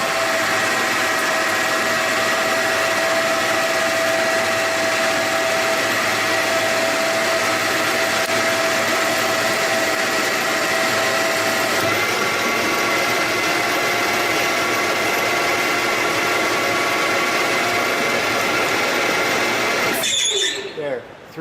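Metal lathe turning a workpiece with the power feed engaged, cutting about 2 mm deep: a steady, loud broadband machine whine with a faint tonal hum that runs unbroken for about twenty seconds before cutting off.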